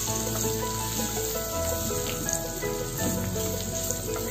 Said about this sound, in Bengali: সব উপকরণ মানে এই দুটো উপকরণ আমাদের কিন্তু খুব ভালো করে ভেজে নিতে হবে, কাজু বাদাম এবং পেঁয়াজ।